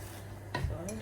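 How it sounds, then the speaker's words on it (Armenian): Cabbage drops into a pot of borscht with a short soft thud and clatter, followed by a faint metallic clink from the pot. "կաղամբն եմ ավելացնում"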